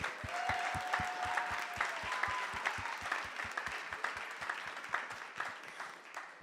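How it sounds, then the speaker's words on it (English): Applause for the artists at an arts festival weekend held in a church: an audience claps steadily and fairly softly, with sharp rhythmic claps from one person standing out near the front. "So can we give a big round of applause for every artist that's been a part of this weekend?"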